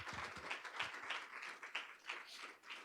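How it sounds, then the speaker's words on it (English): Applause from the audience at a school district Board of Education meeting, a steady, fairly quiet patter of clapping with soft bursts, heard from a distance in the room and running evenly for a few seconds. "round of applause"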